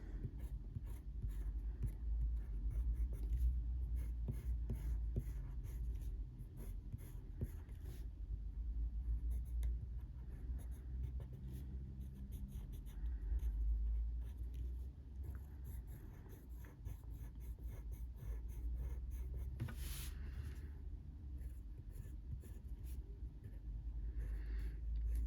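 Coloured pencil scratches steadily across blue toned paper in close, soft, continuous strokes that keep a rough rhythm over a low background hum, with no talking.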